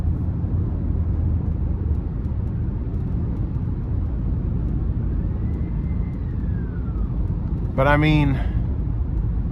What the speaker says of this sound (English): And wind noise isn't bad.